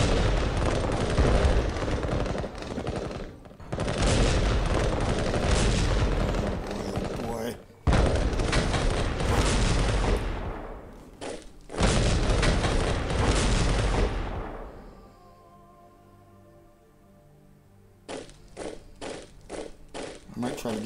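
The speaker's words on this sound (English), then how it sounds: "He sent off his artillery." Booming artillery salvos from Strategic Command WW1, loud dense bursts in long rolling stretches, then a quieter pause followed by a string of short sharp reports near the end.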